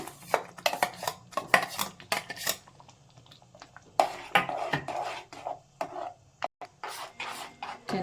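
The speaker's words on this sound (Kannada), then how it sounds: "ಚೆನ್ನಾಗಿ ಮಿಕ್ಸ್ ಮಾಡಿ ಚೆನ್ನಾಗಿ ಕುದಿಬೇಕು" A spoon scrapes and knocks against a pan while a thick ground jackfruit mixture for obbattu is stirred and brought to a boil, with irregular clattering strokes close by and no voices.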